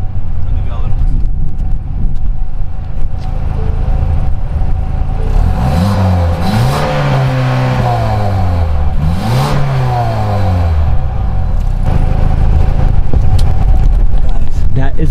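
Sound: 2023 Ford Escape ST-Line 2-liter EcoBoost engine and exhaust

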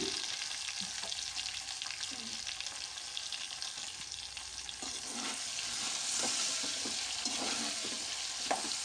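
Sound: stirring cut vegetables in a pan

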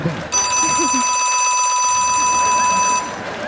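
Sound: theatre bell ringing

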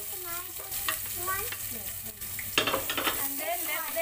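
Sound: chopped green chili and onion frying in pan

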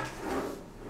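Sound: drawer opening or closing in hotel bathroom

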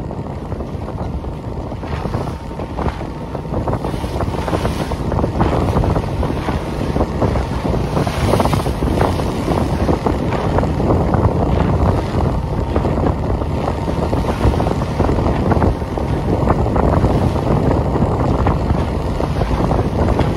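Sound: choppy easterly wind against a sailboat

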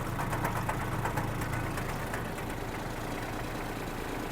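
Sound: Kubota A-195 mini tractor engine running

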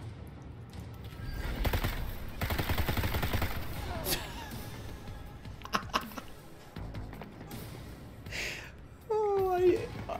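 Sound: gunfire barrage in Necromunda: Underhive Wars video game

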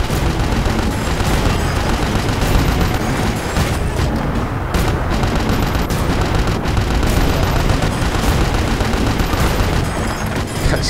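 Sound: gunfire and grenades in Battlefield Bad Company 2 video game

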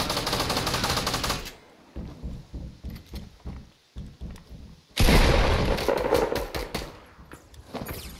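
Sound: gunfire in Fortnite video game

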